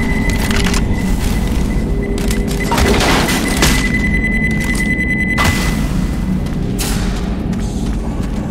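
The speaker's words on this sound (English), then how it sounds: "Pipe bomb!" A pipe bomb goes off in a zombie video game, a heavy boom followed by repeated thudding blasts and gunfire-like cracks amid loud game noise.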